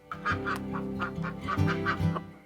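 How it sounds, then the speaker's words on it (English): A silky rooster gives a string of short, nasal, honking calls close by, several bursts in quick succession with brief gaps, heard alone without talk. "He's my silky rooster."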